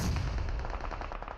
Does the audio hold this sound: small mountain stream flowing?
no